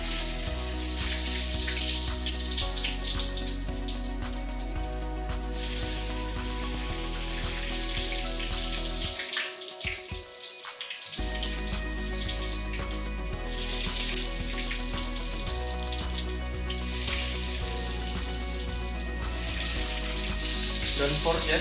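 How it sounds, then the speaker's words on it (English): Sliced tempeh fries in hot oil with a constant loud sizzle and crackle, broken briefly by a short gap partway through before the frying noise resumes. "when the oil is hot enough, we take the sliced tempeh and then fry them"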